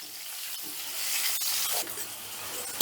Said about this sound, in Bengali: এবারে গ্যাসের আঁচটা বাড়িয়ে দিয়ে আলুটা আমি লাল লাল করে ভেজে নেব